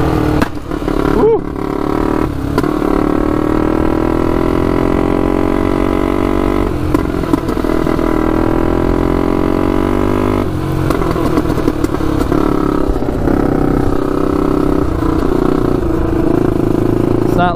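A turbocharged Honda 400ex ATV engine runs loud and close for a long stretch, its steady drone rising and surging in pitch with a few brief clatters and a voice over it.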